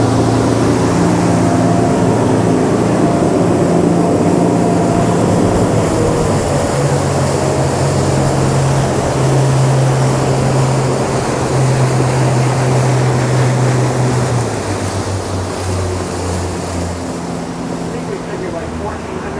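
A boat cruises at slow, minimum-wake speed around 1300 to 1500 RPM in fog on the Gulf, its engine a steady low drone mixed with rushing water and wind, with voices talking over it.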